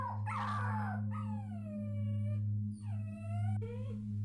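A puppy whines in a series of drawn-out, rising and falling high whimpers, with short pauses between them, over a steady low hum.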